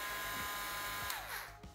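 An embossing heat tool on its low setting blows with a steady, close electric whir as it dries flakes, then trails off near the end.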